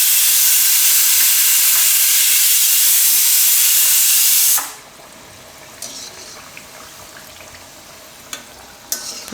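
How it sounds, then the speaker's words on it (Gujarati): Bajra flour chapadi frying in hot oil on a low flame, an intense close hissing sizzle for about four and a half seconds that cuts off abruptly to a quiet room with a few light clicks. "તો ધીમા ગેસે જ આને તળાવવા દેવાની"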